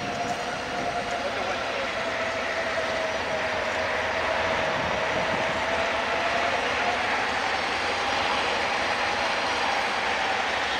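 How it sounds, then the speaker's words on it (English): Jeep's winch pulling a stuck Toyota Tacoma off-road, a steady loud mechanical whine and grinding drone with a faint rising tone, continuous throughout, with no talk over it. "Just tell her to let the winch do the work now."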